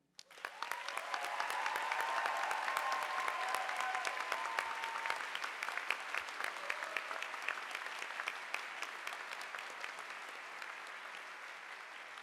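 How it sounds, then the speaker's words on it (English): Sustained applause from a large audience at a graduation commencement ceremony, clapping swelling quickly and then continuing steadily for over ten seconds at a moderate, somewhat distant level without speech. "I'd like us to give a huge round of applause to the class of 2023."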